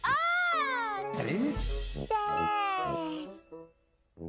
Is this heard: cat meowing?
yes